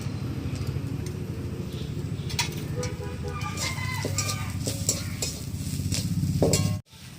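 Grated coconut fries in a pan with slit green chillies and turmeric while a utensil scrapes and stirs it in quick, repeated strokes, ending with a sudden clatter.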